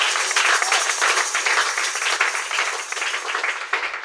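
A church congregation applauds in praise of Jesus, a dense, steady wash of many hands clapping together for several seconds at an even level, with no voices standing out.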